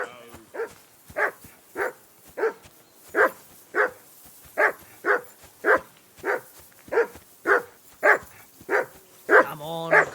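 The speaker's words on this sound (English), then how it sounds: "Call that dog to heel." A dog in the video game Kingdom Come Deliverance 2 barks repeatedly, around fifteen short, evenly spaced barks close by, ending in a brief whining yelp.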